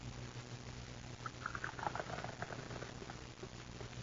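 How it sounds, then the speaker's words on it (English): Hot coffee poured into a cup at a breakfast table in an old-time radio drama: a faint, brief liquid trickle over a steady low hum, with no talk. "let me pour your coffee, Maud. It's still very hot"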